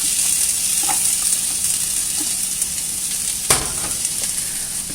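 Carrots and onion sizzle in a pot for Greek lentil soup, a steady close-up frying hiss that runs throughout, with a few soft stirring taps and one sharper clunk partway through.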